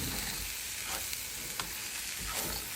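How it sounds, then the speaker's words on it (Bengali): Polao rice is frying with ginger and garlic paste in a pan, a steady low sizzle broken by a few soft stirring scrapes, heard close with no voices. "এই চালটা, পোলাওয়ের চালটা যত ভাজা হবে ততই সুন্দর হবে"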